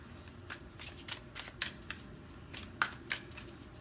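Tarot cards are shuffled close by in a quick run of crisp riffling and slapping bursts, steady and fairly loud with no talking.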